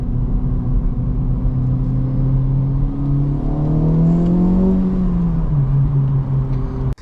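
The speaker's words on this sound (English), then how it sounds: "Take a listen to all 320 horsepower of the Acura Integra Type S" A 2024 Acura Integra Type S with 320 horsepower accelerates hard to highway speed with its exhaust fully open, a loud, close engine drone rising steadily in pitch over road rumble.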